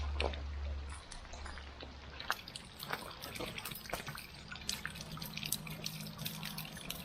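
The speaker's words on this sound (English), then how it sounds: "She likes the running water," Water runs and drips steadily at an old mill site, a continuous splashy trickle with sharp individual drips scattered throughout, fairly close.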